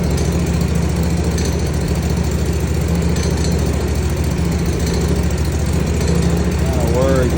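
A Kawasaki FR651V engine on a Kubota mower runs loud and close with a steady, throbbing idle and a rattling vibration as it shakes hard, and a voice speaks briefly over the drone.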